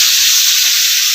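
Onion and garlic sauté in hot oil for a chutney, giving a steady, loud, close sizzling hiss that holds evenly through the brief moment with no talking.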